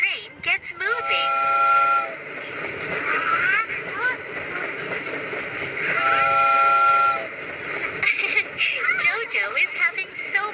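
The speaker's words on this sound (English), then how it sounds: "Choo-choo! The little train gets moving." A cartoon toy train whistles its choo-choo twice in short harmonic bursts as it starts moving, with cheerful music and voices talking around it.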